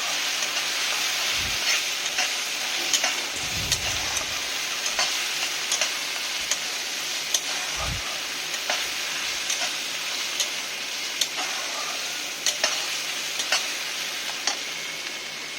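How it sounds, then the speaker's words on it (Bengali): Chicken curry spice paste with water and turmeric frying in a pan. A steady sizzle runs throughout, broken by a few scattered low thumps and a clatter of stirring around the middle. No voices. "এই জলটা দিয়ে দিলাম, দিয়ে এটাকে ভালো করে একটু কষিয়ে নেব।"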